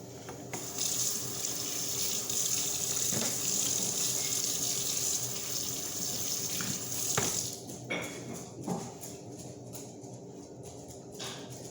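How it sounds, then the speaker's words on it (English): Tap water runs steadily into a kitchen sink for hand washing while preparing a quiche, a continuous hiss that stops near the end, followed by a few faint clinks and splashes. "Now I'm going to wash my hands before I mix."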